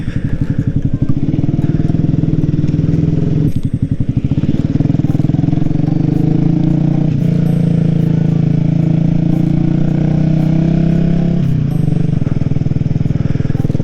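A motorcycle engine runs loudly and continuously up close, a throbbing, rumbling drone with small shifts in revs as it rides along.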